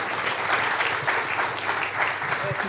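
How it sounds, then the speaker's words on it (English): An audience at a GCC summit session at GIFT City, Gandhinagar, claps in a dense, steady burst of applause lasting a few seconds, fairly loud and close, with faint voices mixed in. "So you have to clap also for this."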